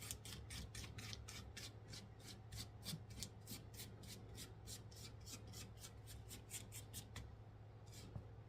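A spatula scrapes down the sides of a mixing bowl of sugar cookie dough in a steady series of short, rhythmic rasping strokes, close and moderately quiet over a low background hum.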